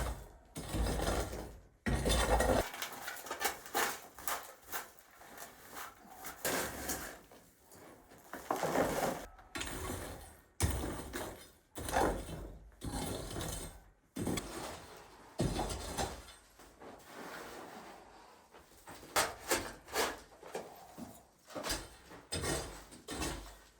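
Dirt being carefully scraped and brushed off the top of an old tiled vault in a historic house, heard as close, irregular scraping, rasping and knocking sounds in uneven bursts with short pauses.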